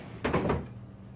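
A bottom dresser drawer is yanked open in a quick scraping burst of wooden sliding and knocking, lasting under half a second and then giving way to quiet room tone.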